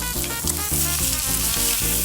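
Smoked cherry duck sizzling and frying in a pan, with a loud, continuous crackle broken by regular bursts of stirring or pressing about every quarter second, close up and with no talk.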